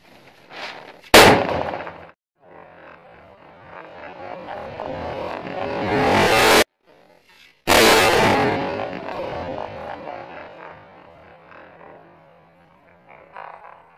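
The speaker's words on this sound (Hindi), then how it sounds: "ये फटाका जो फटेगा वो हवा में ही फटेगा" A firecracker tied to a kite bursts in mid-air with a sharp, very loud bang, then a roaring crackle and a second explosive burst, with dense fizzing debris noise trailing off.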